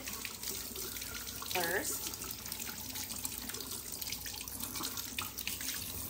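Turnips are washed under a running kitchen tap, making a steady close splash and hiss with a brief gurgling rise partway through, while a voice speaks a word.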